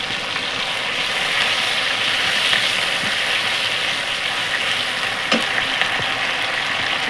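Green chillies frying in oil in a pan alongside tomatoes, bay leaf and spices; a dense, loud, continuous sizzle with a few sharp scrapes and clicks near the end, close up and without talk.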